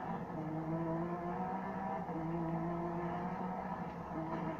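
A Lamborghini Veneno in the Need for Speed racing game gives a fairly quiet, steady engine drone with sustained tonal hums that rise slightly as it accelerates, with no talking over it.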